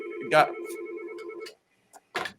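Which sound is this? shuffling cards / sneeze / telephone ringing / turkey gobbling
telephone ringing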